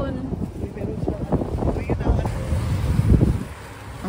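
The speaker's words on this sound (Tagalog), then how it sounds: "Ang hangin." Strong wind buffets the microphone outdoors in a yard with plants, a steady rumbling gusty roar that swells toward the end, with voices talking faintly underneath.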